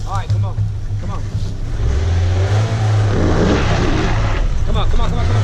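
A lifted Honda CR-V on 34-inch tires revs hard climbing an off-road hill at an OHV park, the engine droning loud and sustained while people shout encouragement over it.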